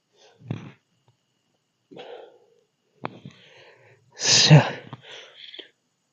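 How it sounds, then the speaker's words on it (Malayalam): A few short, sharp dog barks pop out at scattered intervals against near silence, fairly faint as if from some distance. "എവിടുന്ന അവരുടെ പട്ടി കുറയ്ക്കുന്ന സൗണ്ട്"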